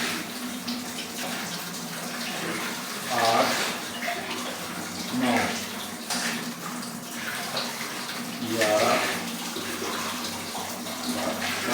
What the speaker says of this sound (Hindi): 12 गिलास पानी हम इसमें शामिल करने वाले हैं।